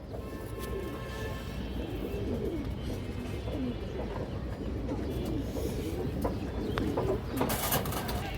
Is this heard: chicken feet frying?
no